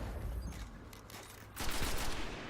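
Assault rifle fire in the video game Destiny sounds as quiet bursts of rapid shots, the second half denser and louder, with no voices.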